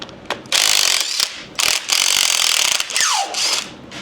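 A wrench ratchets loudly on the head bolts of a big block 460 engine in a Bronco build, several close, bursty clicking runs separated by short pauses, no talking.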